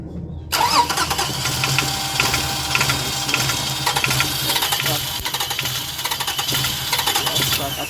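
Up close, the starter of a Toyota Highlander with a fuel delivery fault whirs in a steady rhythmic churn, the engine cranking but never catching, with faint clicks during a spark test and the spark plug removed.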